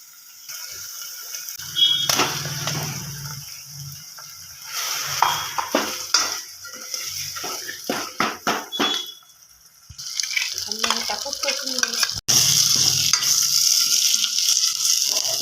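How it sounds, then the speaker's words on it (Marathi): Fresh green pigeon pea vegetable with tomato and coriander being stirred and fried in oil over medium heat, with steady sizzling and repeated scraping stirs of a spoon against the pan, fairly close and loud. "थोडी भाजी आपल्याला तेलामध्ये फिरवून घ्यायची आहे"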